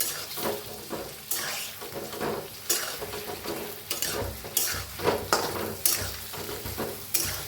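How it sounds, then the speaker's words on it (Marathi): Stuffed brinjals (vangi) stirred and fried in a pan, a close rhythmic scraping of a spatula repeating every second or so over a soft continuous sizzle, no speech. "वांगी तर असं परतून घेऊया हलवून घेऊया"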